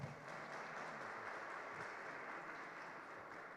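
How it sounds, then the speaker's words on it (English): Audience at a tech conference applauding after a talk, a faint, even patter of clapping lasting a few seconds. "Big applause."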